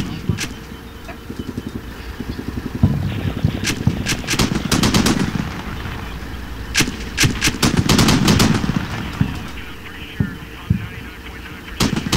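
Machine gun suppression fire in the Combat Mission: Shock Force war game, with repeated sharp bursts and single shots over a steady low rumble and hum, loud and continuous throughout.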